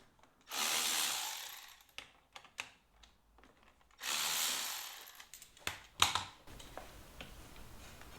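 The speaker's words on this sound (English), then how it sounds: "we have to take off the brake calipers" Tools work on the brake calipers of a Triumph Rocket motorcycle during removal. Two long ratcheting runs stand out, with scattered metallic clicks and clatter between them at close range.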